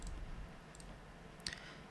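A computer mouse click while working in Canva on a landing page, a couple of faint clicks near the middle over low room hiss, with no talking.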